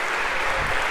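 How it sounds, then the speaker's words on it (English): Lecture-hall audience clapping for volunteers at a CS50 computer science class, a dense, steady wash of many hands at close range, short and continuous with no voices on top. "One more round of applause if we could for our volunteers"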